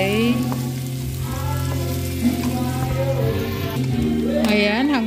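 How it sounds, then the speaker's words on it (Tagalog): Garlic and onions sautéing in a pan for pansit canton, a steady close sizzle running the whole time beneath a low hum, with a brief voice near the end. "At ginisa natin sa sibuyas at bawang."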